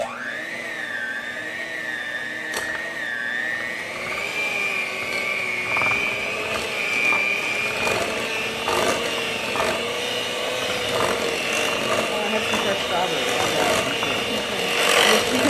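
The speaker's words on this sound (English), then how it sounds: "Then I'm going to use the mixer, so it's going to be loud for just a moment here, momentarily." An electric mixer whirs steadily and loudly, blending a fruit dip at close range with a continuous whining drone that rises slightly in pitch.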